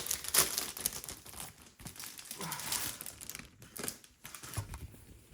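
Sheets of North Pole Delivery 12x12 specialty paper with die-cut pieces crinkle and rustle close up, in a steady run of crisp handling noises with brief pauses.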